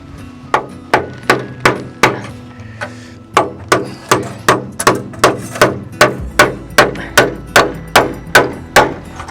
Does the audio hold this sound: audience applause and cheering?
no